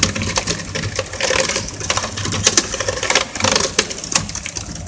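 Keys on an ASUS X441U laptop keyboard pressed one after another while it is being repaired, giving a dense run of close, quick plastic clicks and taps with a steady background hum.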